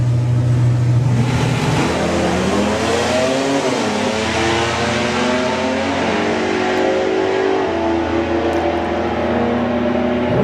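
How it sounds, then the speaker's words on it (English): A Jaguar E-Type drag racing car launches hard down the strip at a national finals drag meet, engine roaring loud and continuous with rising revs through the gears, alone with no talk. "The E-Type will be leaving first."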